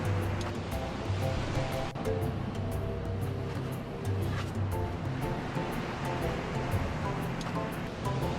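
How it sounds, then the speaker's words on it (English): Sea waves wash and roll onto the shore of a remote island while wind blows across it, making a constant loud rumbling surf with crashing bursts now and then. "The wind has picked up a bit and there are some waves."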